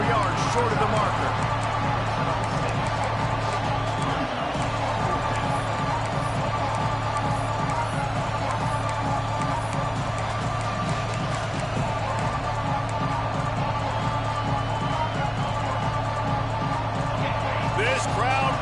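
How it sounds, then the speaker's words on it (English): Dense, steady roar of a large stadium crowd at an American football game against Oklahoma during a fourth-down play, loud and continuous throughout, with a commentator's voice running over it. "This crowd bringing serious noise on this huge fourth down play."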